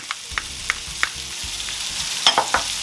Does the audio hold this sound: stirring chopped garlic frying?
yes